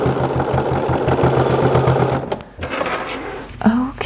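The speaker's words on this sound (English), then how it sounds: "I'm going to sew shut where I left it open, that little area" A sewing machine runs for a couple of seconds, closing the open gap in a swim trunks waistband, then stops; a voice speaks briefly afterward.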